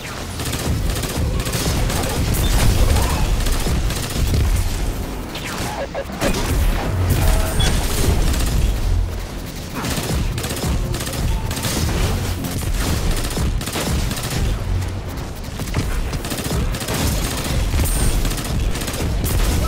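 Gunfire and small explosions in the video game Destiny 2 on PS4 Pro, a dense sustained barrage of rapid shots with booming blasts over a continuous battle din, loud and close.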